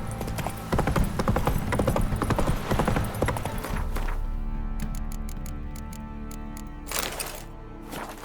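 Horse hooves clip-clopping in The Witcher 3 video game, a rapid run of close hoofbeats that slows to a few spaced clops, with a lingering tonal hum in the background.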